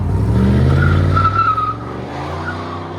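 A 1995 Chevy 1500 Z71 pickup with a 5.7L V8 and Magnaflow MagnaPack exhaust, 3-inch pipe and dual tips, rumbles loudly and steadily close by, its deep exhaust note easing off partway through.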